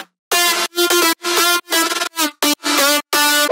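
A bright, buzzy synth lead for a future house drop plays short choppy stabs in a bouncy rhythm, with automated reverb tails opening up between the notes, loud and upfront.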